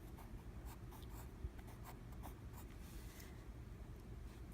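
A pencil draws window outlines on a carpentry plan, giving faint, steady scratchy strokes on paper with no talking.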